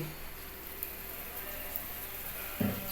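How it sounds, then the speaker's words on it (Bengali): A chhatu-stuffed paratha frying in a small amount of oil in a pan, a soft continuous sizzle that stays quiet and steady, then a brief louder crackle near the end. "একদম অল্প তেলের মধ্যে এটাকে ভাজতে হবে"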